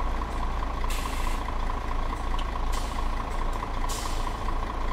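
Euro Truck Simulator 2 truck fitted with a V8 sound pack, a steady low engine drone with several sharp hissing bursts of air suspension venting spread across the stretch, loud and close.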